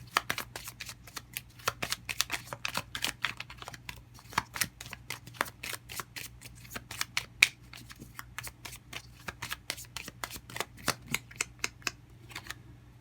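Tarot cards are shuffled by hand nearby in a quiet room, giving a long run of quick, crisp riffling taps and flutters at an irregular but steady pace over a low constant hum.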